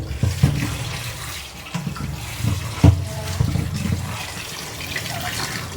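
Magur catfish being rinsed in water for a thin curry: splashing and sloshing close by, with irregular bursts of agitated water over a steady running-water wash.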